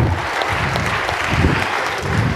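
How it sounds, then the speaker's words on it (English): Church congregation clapping for the Lord at a Saturday night service, a dense, continuous wash of hand claps filling the room, loud and steady. "Give the Lord a hand clap."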